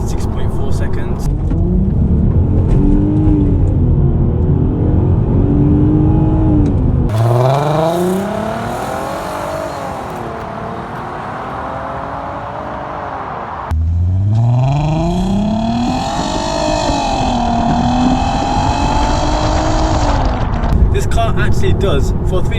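ABT-tuned Audi A3 3.2 V6 with DSG accelerating from the driver's seat, engine pitch climbing steadily through two or three gear pulls with brief drops between shifts, loud and close.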